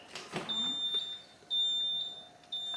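A refrigerator beeping out an error code, a thin high-pitched electronic beep repeating at about one-second intervals, fairly quiet against a faint room background.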